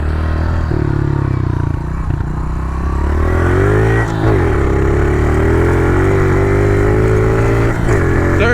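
Pit bike engine revving hard during a run up, a loud, close, continuous buzzing roar that climbs and shifts in pitch through gear changes and never lets up.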